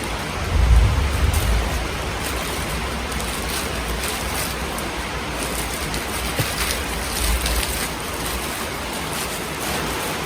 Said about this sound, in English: We're sorry for the background noise. It's because it's raining.